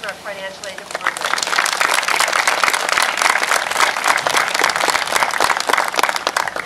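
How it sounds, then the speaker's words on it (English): Audience clapping at a college Veterans Day celebration, a dense, steady round of applause from an indoor crowd that starts quickly and holds loud throughout, with a few voices mixed in beneath. "let's have a round of applause for Ashley LaJoy, who works in our financial"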